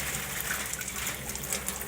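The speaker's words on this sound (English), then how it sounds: "you're going to want to leave that dedicated faucet just running" Water gushing steadily at full force from a dedicated filter faucet on a Kinetico K5 drinking water system, a loud continuous close rush with no speech.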